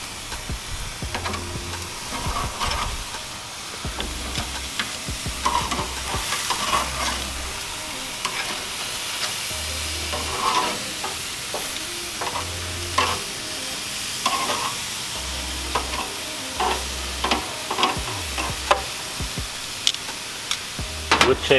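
Pork chops cook on a grill with a steady close sizzle and crackle that runs throughout, with occasional clicks and light scraping of turning, and no talking.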